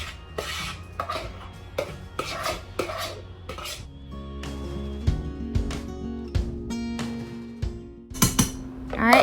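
Rice tipped into an oiled pressure cooker pot, a scattered clattering rush of grains against metal with clinks and scrapes, close and fairly loud, running through several seconds.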